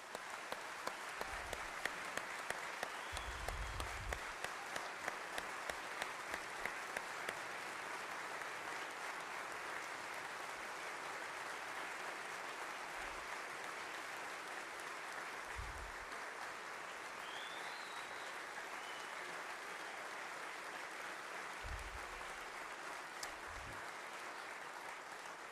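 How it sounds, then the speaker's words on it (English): Sustained audience applause at a 2019 State of the State address, a steady wash of clapping from a large crowd lasting about twenty-five seconds, with a few low thumps and no talking. "Give her another round of applause."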